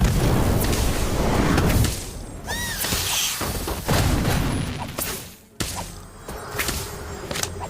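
Confringo blasting spell in the Harry Potter: Magic Awakened video game: loud whooshing bursts and booming, crackling impacts pile up in a dense, continuous barrage, with a brief lull before the blasts resume.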